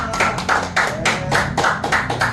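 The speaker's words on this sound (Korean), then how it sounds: "박수 치겠습니다" An audience at a lecture claps in a steady rhythmic beat, each sharp clap evenly spaced and fairly loud, with no talking underneath.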